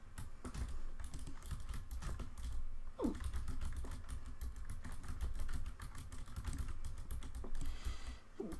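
Typing on a computer keyboard, a fast, continuous run of small clicks and clacks at moderate volume, with a low background hum underneath.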